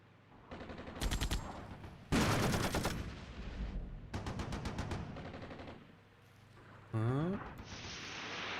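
Armored Brigade 2 war game gunfire with artillery strikes comes in loud, sharp bursts and rapid clattering volleys, with short gaps between them and a person talking at times.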